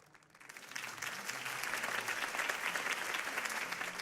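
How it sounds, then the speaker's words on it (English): Applause from a crowd in the Batman Telltale Series video game, rising quickly from a few claps into a steady wash of clapping that holds to the end. "could have heard that applause"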